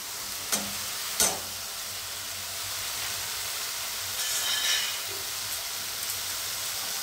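Ground spices sizzle and fry in a pan for a tinda masala curry, a steady soft hiss with a couple of sharp stirring knocks early on and a brief steamy flare midway.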